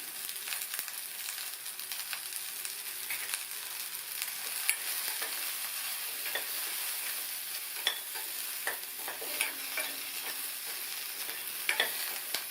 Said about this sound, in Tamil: நீங்கள் 2 பெரிய வெங்காயம் சேர்த்து வதக்கிக்கோங்க